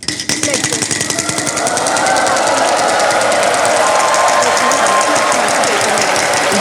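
A large prize wheel spun on the Wheel of Fortune game show set, rattling in a rapid, steady run of clicks that starts loud and holds at an even pace under a noisy studio backdrop.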